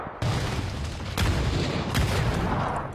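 Grenade blasts and gunfire in the battle royale game PUBG during an esports match, heavy booms and crackling shots layered densely and loudly throughout.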